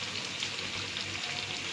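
Food frying in a pan gives a soft, even sizzle with a fine crackling texture, fairly faint and steady throughout, with no talking.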